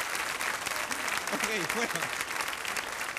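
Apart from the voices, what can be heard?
comedy show audience applauding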